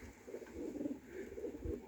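Soft, repeated pigeon coos inside a pigeon loft murmur quietly in a low, rolling rhythm against faint background hum, with no voices.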